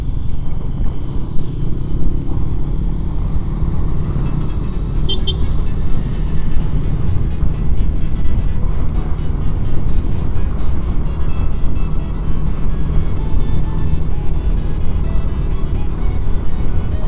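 Steady road rumble from inside a moving car in traffic, a continuous low engine and tyre drone with no pauses.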